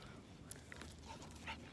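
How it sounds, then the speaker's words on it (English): A dog plays with a llama toy, making faint, brief whimpers and yips close by over a quiet background. "my dog's going after my llama."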